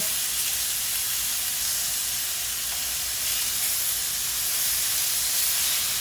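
Flank steak sears in a hot pan with a loud, continuous hiss and sizzle that stays even and close throughout.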